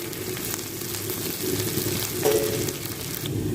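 A large onion frying in a cup of hot mustard oil, browning with a steady close sizzle and crackle, plus a brief stirring scrape partway through.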